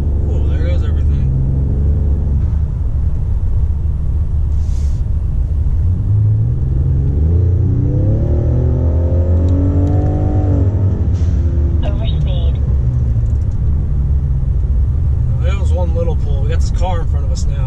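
A 2020 Ford Raptor with twin turbos and a front-mount intercooler rumbles loudly from inside the cab, its engine note rising and swelling as the turbos spool up, with people talking over the steady drone.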